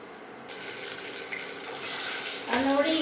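Chana dal frying in a pan until reddened makes a continuous hiss and sizzle that swells louder near the end, heard close with no speech.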